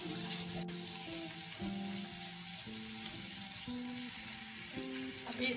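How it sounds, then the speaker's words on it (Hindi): Tempering spices for sarson ka saag fry in hot oil, giving a steady loud sizzle and crackle that continues for several seconds with no voices. "अब इसको तड़का लगेगा"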